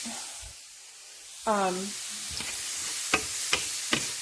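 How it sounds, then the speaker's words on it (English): Onion and garlic sauté together in a pan for shepherd's pie, giving a steady soft sizzle and hiss. A brief tonal sound and a few sharp clicks and knocks come through partway, with no clear talk. "right now I've got the onion and the garlic kind of sauteing together, sweating it out"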